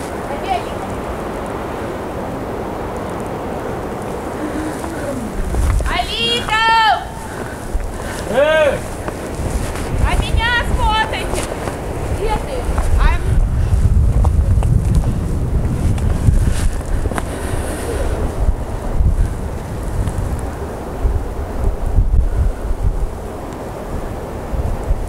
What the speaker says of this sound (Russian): И волны, очень сильные волны